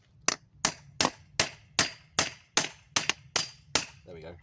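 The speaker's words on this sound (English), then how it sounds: "So we're going to hammer it a bit more." A hammer strikes a universal joint cap to knock it out, with ten sharp metallic blows at a steady, brisk rhythm, close and ringing, followed by a short voice at the end.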